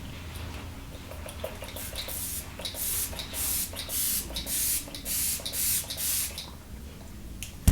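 Repeated quick hissing spray bursts from a Morphe makeup setting spray bottle, a steady run of short spritzes close by, with faint clicking between them.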